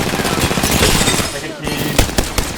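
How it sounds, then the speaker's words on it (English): Rapid automatic gunfire in the video game Apex Legends, a loud dense burst that cuts off briefly and then resumes with a few scattered shots. "Opening fire."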